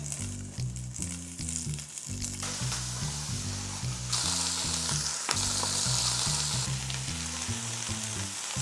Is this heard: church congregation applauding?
no